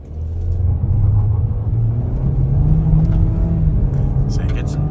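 A 2024 GMC Terrain accelerates on a rough back road, its engine drone climbing steadily in pitch over a deep rumble that stays loud throughout.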